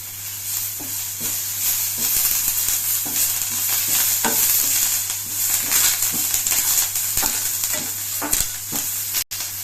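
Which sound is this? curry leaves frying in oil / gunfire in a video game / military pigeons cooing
curry leaves frying in oil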